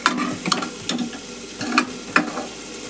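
Boiled lentils are stirred into tomatoes fried in oil for sambar, giving sharp intermittent scrapes and clacks of a spoon in a pan over a steady soft sizzle, close up and with no talking.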